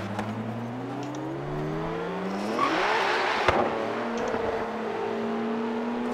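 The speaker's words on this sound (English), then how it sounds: "That Lambo sounds good." A Lamborghini engine in the racing game Forza Horizon 3 revs up through rising tones, shifts gear with a brief burst of noise midway, then settles into a steady engine drone, up close and alone.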